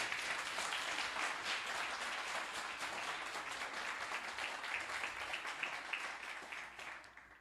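A church congregation applauds in a steady wash of many hands clapping, fairly distant and even, slowly fading toward the end without any speech.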